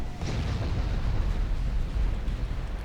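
Sixteen-inch naval shells strike in Ultimate Admiral Dreadnoughts, heard as a low, rumbling, continuous roll of distant explosions at moderate loudness, with no talking.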